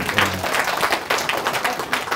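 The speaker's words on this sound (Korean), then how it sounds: "다시 한번 박수 보내주십시오." Applause from an audience at a colloquium lecture, a brief round of scattered clapping with individual hand claps audible, fairly close and moderately loud.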